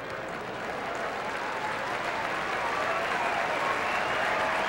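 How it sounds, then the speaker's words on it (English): A curling crowd at the Centrium applauds both teams during a Scott Tournament of Hearts semifinal, a steady, dense wash of clapping that swells slightly and carries on throughout. "As the crowd at the Centrium acknowledges both teams here in this semifinal at the Scott"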